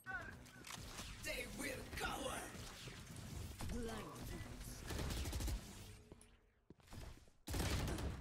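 Rapid gunfire bursts from the Valorant video game run through most of the stretch, dense and loud, broken by a brief drop near the end before more shots return, with game audio and some voice mixed in.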